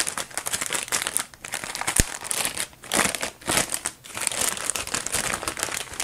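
Packaging of an EVGA XC Hydro Copper GeForce RTX 2080 Super water-cooled graphics card crinkles and crackles as it is opened by hand, with steady close rustling and a few sharper tearing bursts.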